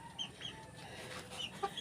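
Chickens clucking in rows of coops on a Filipino farm, a few short calls popping out near and clear over steady low background noise, no talk.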